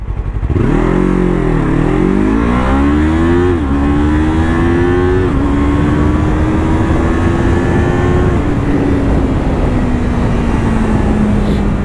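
A Yamaha R3 motorcycle fitted with an Akrapovic exhaust accelerates hard from a standstill to 100 on a street, loud and close, its engine climbing through several gears with sharp rev drops between shifts and a long final pull.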